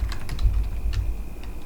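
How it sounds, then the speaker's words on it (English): Quick, close typing on a computer keyboard, a steady run of light key clicks over a low hum. "we're going to type in the scripture"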